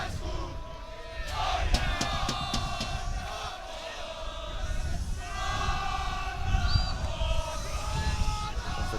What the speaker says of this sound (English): As the crowd livens up.